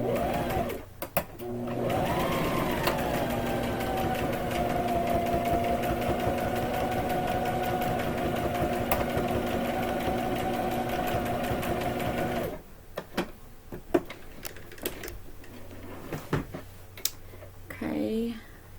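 Sewing machine stitching the corner of a quilt pillow, a steady close mechanical whir running for about twelve seconds before stopping, followed by clicks and handling noises, with someone talking at times.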